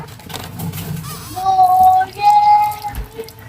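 Running water splashes and trickles onto a face lathered with a mild lemon-scented soap bar, with steady flow close by and slight pauses in between.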